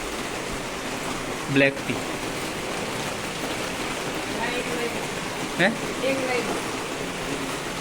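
Rain falls outdoors during the monsoon, a steady soft hiss of drops in the background, with a person talking briefly over it a couple of times.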